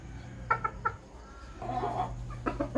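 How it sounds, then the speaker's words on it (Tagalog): A Sweater Kelso gamefowl rooster in a backyard setting gives short clucks close by, a few quick bursts early on, then a longer murmuring call and more clucks at the end. "So ito ay Sweater Kelso."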